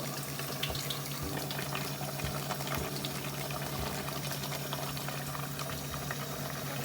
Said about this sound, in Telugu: ఒక గ్లాస్ వాటర్ వేసుకుందాం